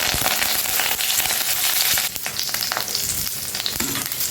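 Mustard seeds, cumin and curry leaves in a spoonful of hot oil in a kadai, a loud dense sizzle crowded with rapid crackling pops, close up and without voices.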